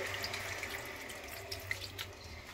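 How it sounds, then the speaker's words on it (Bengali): Water runs steadily from a tap or jug into a cooking pan of spiced fish-head curry with pumpkin and potato, a continuous close hiss with a few small splashes, with no talking. "এবারে দিয়ে দিচ্ছি আমি জল"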